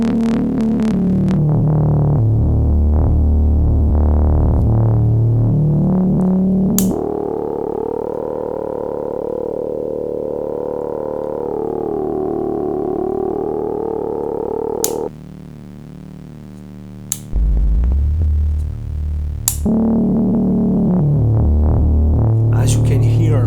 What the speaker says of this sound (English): now let's hear the band pass filter